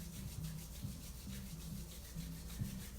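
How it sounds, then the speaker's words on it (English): Palms rubbed together during a calming guided meditation, a steady soft friction swishing with repeated slow strokes, close and continuous, no talking. "rubbing the palms together."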